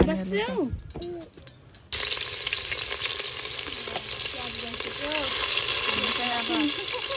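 Talk and a clink come first, then a sudden loud, continuous sizzle as stone-ground spice paste hits a hot karahi, with voices carrying on over the frying outdoors on a rooftop at night.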